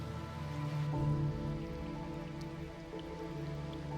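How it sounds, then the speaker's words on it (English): Light rain patters steadily on a surface, a soft continuous hiss with faint drips, holding at an even low level throughout. "you wake up to the sounds of a light rain."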